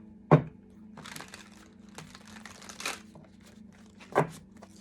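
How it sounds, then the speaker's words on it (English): Intermittent crisp riffling and snapping bursts from shuffled tarot cards, a few sharp flicks spaced across several seconds over a low steady hum, close by. "One more shuffle."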